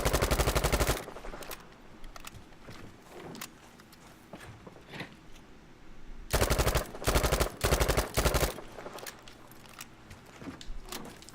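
Thompson submachine gun fire in the video game Battlefield V at a shooting range: a close, loud full-auto burst, a quiet pause with faint distant shots, then several rapid short tap-fire bursts.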